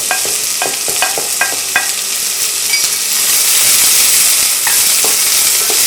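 Onions fry in hot oil, starting with a run of sharp metallic stirring clatters and then settling into a loud, continuous sizzle, with no voices.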